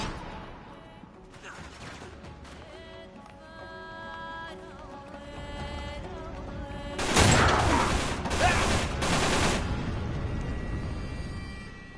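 Gunfire in an Uncharted game: a burst of rapid shots and crashing impacts erupts midway and stays loud for a few seconds over a quieter mechanical, musical backdrop.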